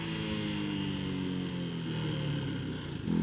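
A Janus Halcyon 250 motorcycle engine runs at steady revs, a continuous close droning hum with a slight rise in intensity near the end, heard alone without talk.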